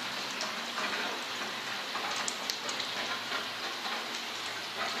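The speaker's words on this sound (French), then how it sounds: "l'impression qu'il pleut dessus" Water falling like rain onto a Citroën C15 car under restoration, a dense, steady pattering hiss with scattered small taps, close and continuous.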